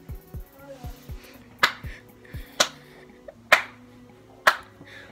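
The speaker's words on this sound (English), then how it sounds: "What are you clapping for?" A few sharp, separate hand claps spaced about a second apart, close and crisp in a quiet room, alongside faint low knocks.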